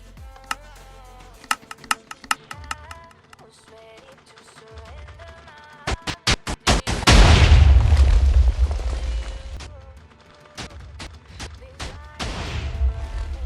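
Cannon blasts in a modded block-building video game tunnel through a whole chunk of solid blocks: a run of sharp pops and clicks builds into a burst of rapid bangs, then a loud sustained roaring rumble, with scattered pops continuing afterward.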